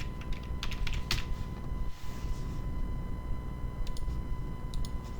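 Typing on a computer keyboard while setting up an online store, with steady clusters of key clicks and brief pauses, close and fairly loud over a low background hum.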